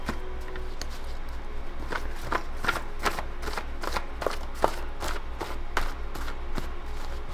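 A deck of tarot cards is shuffled by hand, a rapid run of crisp riffling flicks and taps repeating in a steady rhythm, close and fairly loud, over a low background hum.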